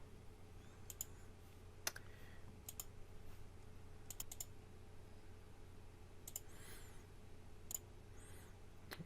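Sparse, sharp mouse clicks ring out one at a time over a steady low hum while installing Visual Studio Code on a computer, about a dozen isolated taps spread evenly.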